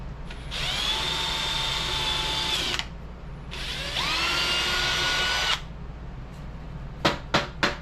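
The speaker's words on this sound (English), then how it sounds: "Now we can drill the hole for the alternator." A power drill bores a hole through thick steel for an alternator mount, two sustained whining runs with a short pause between, then a few sharp metallic taps close by.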